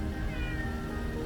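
Cats meow in a van parked at a campsite for the night, with a few soft, drawn-out meows close by and steady low background noise underneath.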